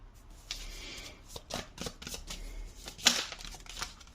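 A tarot deck is shuffled by hand in a quiet room, with several soft riffling bursts and papery flicks spread over a few seconds, close and fairly faint.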